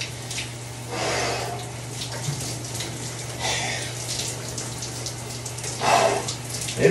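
Body stepping into a cold ice bath, water sloshing and splashing in several bursts over a constant low hum, the loudest splash near the end.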